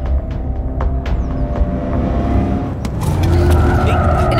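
A car driving on a road, a continuous engine drone with rising pitch and faint tire noise, close and loud, with raised voices speaking over it.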